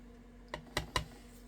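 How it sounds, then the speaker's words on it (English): Three crisp, close taps of a rubber stamp pressed onto an envelope on a craft table, evenly spaced in quick succession over a quiet background. "You know we're going to stamp on the envelope."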